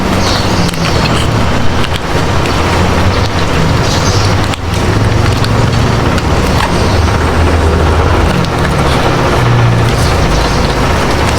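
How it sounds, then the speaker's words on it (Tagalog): A continuous loud hissing whir from an air tool working on a shoe sole during a regluing repair, running steadily throughout with a brief dip partway through. "Saka yung air tool."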